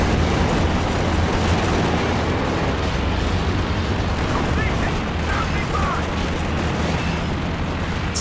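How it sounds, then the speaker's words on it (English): Panzer IV tanks shooting at base structures in a World War II strategy video game: a continuous dense wall of gunfire and booming explosions, loud and sustained throughout with no clear gaps, with a commentator's voice buried underneath. "Panzer IVs move up to take shots at base structures"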